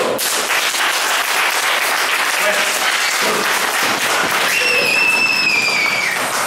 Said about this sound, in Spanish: un fuerte aplauso, un fuerte aplauso.